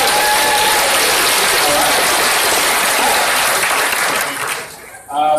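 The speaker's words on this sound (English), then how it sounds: "Can we give Legenda and the supporters a big round of applause?" Dense crowd applause fills most of the clip, loud and steady, fading near the end as a voice begins.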